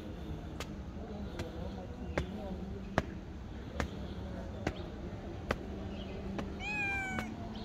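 Cat meowing outdoors above an old street in Jerusalem: a short, faint mew near the end, heard over low background hum and a series of evenly spaced sharp taps, with a person speaking quietly nearby.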